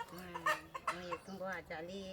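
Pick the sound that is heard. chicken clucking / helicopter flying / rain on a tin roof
chicken clucking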